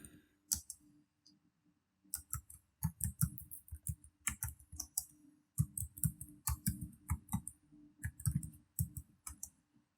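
Fingers type on a computer keyboard while a heading is entered in Canva. Quiet, crisp key clicks come in quick irregular bursts separated by short pauses, with nobody speaking.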